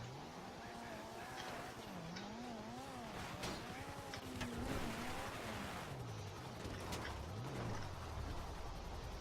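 A car driving in Grand Theft Auto V, its engine rising and falling as it revs and accelerates, heard steadily over a dense, noisy game soundtrack at moderate loudness.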